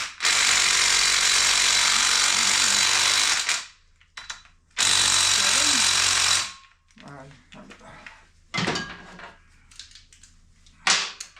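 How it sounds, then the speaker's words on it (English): Tools loosen cylinder head bolts on a Kawasaki KZ400 motorcycle engine with a head gasket leak: two long, loud, harsh power-tool bursts, followed by quieter ratcheting clicks and clunks. "And so now what we can do is start pulling these bolts."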